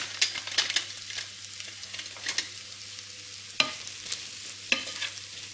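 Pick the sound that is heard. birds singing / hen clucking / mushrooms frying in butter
mushrooms frying in butter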